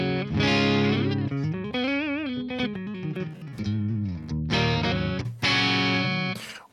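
An electric guitar played through the Bogren Digital S_Zero 93 amp plugin on a fairly clean channel, with bent and sustained melodic notes and short phrases ringing out clearly and alone.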